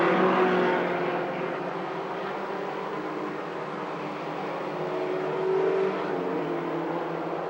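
Race cars circling a track during a 2003 Blowout race event, a steady loud engine drone held throughout with a slight swell near the end, several cars blending together at a distance.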